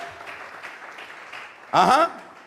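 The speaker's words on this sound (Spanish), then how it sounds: "Vamos a regalarle ofrenda de palmas al Dios de la gloria" Congregation in a church gives a short burst of applause offered to God, a loud clapping swell lasting under a second amid a preacher's sermon and background murmur.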